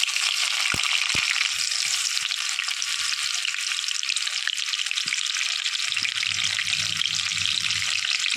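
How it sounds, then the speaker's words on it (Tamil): Soya chunks deep-frying in hot oil with a sprig of curry leaves give a steady, dense sizzle throughout, with a few sharp clicks early on and a low bubbling rumble near the end. "பெசரி வச்சுருக்க சோயாவை எடுத்து நம்ம எண்ணெயில் போட்டு பொரிச்சு எடுக்க வேண்டியதுதான்"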